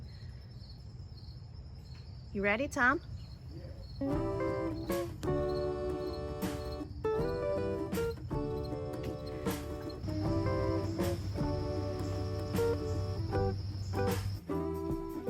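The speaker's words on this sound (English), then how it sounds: "The crickets make so much beautiful sound." Crickets chirp steadily in a continuous high-pitched trill at a farmers market, with a person speaking briefly and other tonal sounds layered over it.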